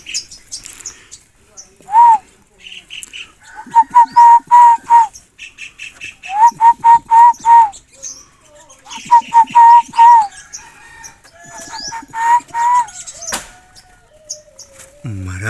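A wild bird sitting on eggs in its nest repeatedly gives loud, close, agitated calls in short clustered bursts. Rustling comes between the calls.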